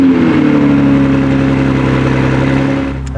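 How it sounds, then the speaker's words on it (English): A Toyota Supra engine runs with a steady, loud exhaust drone and deep low rumble throughout, close by, easing off slightly near the end; no one speaks over it. "Let's hear that exhaust note on startup."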